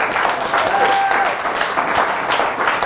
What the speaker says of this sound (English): Just give Kojo a round of applause.